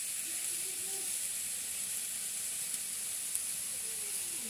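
Clam water poured from above over clams frying in a pan in a Malvani village kitchen, giving a soft, steady hiss and sizzle that stays fairly quiet and unbroken, with no talking.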